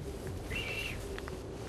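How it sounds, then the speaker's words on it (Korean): A Pamir herder in highland Tajikistan gives a short, thin whistle to move a yak herd, one sustained high note against a steady outdoor background hiss, followed by a couple of faint brief chirps. "작은 휘파람 소리에 야크떼가 일사불란하게 움직입니다."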